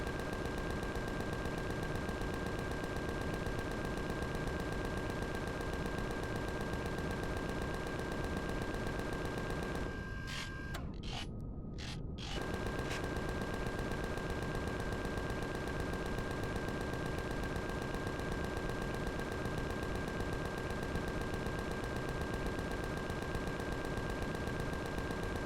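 Weapon gunfire in the sci-fi video game Empyrion: a dense, continuous barrage of rapid shots that holds at a steady loudness for the whole stretch, broken once by a brief gap near the middle, with no talking.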